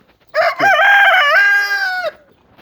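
A chicken in a coop gives a single loud, drawn-out call lasting about two seconds, close by, with no talking.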